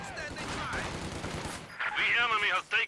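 Soviet conscripts firing SVT rifles in a Company of Heroes 2 battle, rapid cracking shots in quick bursts mixed with battle noise and a faint voice.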